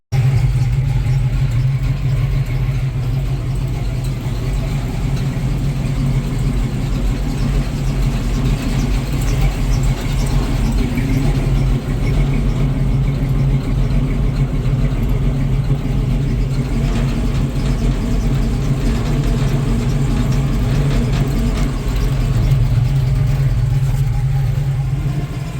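Cars doing burnouts downtown produce loud, continuous engine roar and revving close by, with a dense rumbling wash of traffic noise throughout.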